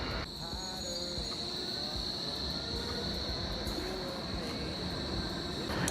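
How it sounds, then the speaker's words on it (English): A steady low rumble of a Berlin tram rolling along, with a constant high electrical whine over the top throughout. "now we're getting on a tram."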